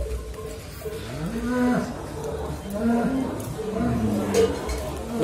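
Simmental cattle moo in long, low, drawn-out calls, several overlapping, amid a busy background of people talking nearby at a cattle show contest.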